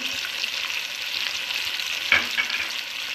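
Chicken stir-frying with soy sauce and vinegar for fried rice, a steady bright sizzle with stirring and a single sharper clink partway through, close and without speech.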